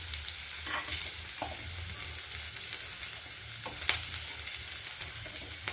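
Tamarind and coconut sautéing with softened onions in a pan give a low, steady sizzle with repeated stirring scrapes and clinks of a spoon, close up and alone.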